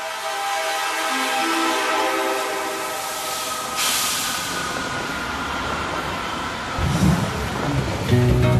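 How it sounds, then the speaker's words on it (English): A train rumbles along the rails of the Qinghai-Xizang Railway with a steady hiss and rattle, a brief horn-like tone sounding partway through and clattering picking up near the end. "The world's highest railway carries us onward"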